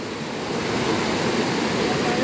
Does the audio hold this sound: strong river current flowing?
yes